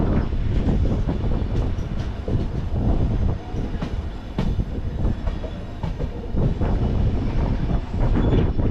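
Tambaram to Senkottai SF Express running on track near Tirunelveli, a steady loud rumble of wheels and carriages with rhythmic clicks and occasional squeals, continuous throughout with no talking.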